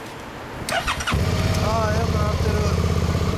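A 2013 Suzuki V-Strom 650 motorcycle engine turns over and catches, then settles into a steady, close idle, with people chatting briefly before and over it.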